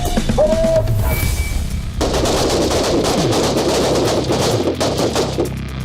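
Pistols fire down range at a shooting range in loud, rapid, overlapping shots, packed tightly together with almost no pause between reports.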